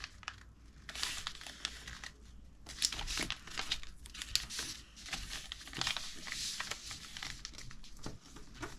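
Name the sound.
folding paper for an origami sea dragon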